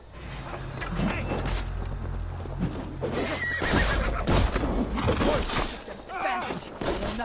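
Horses neigh and whinny loudly with clip-clopping hooves and clashing, whooshing battle noise during a siege of Paris in Assassin's Creed Valhalla.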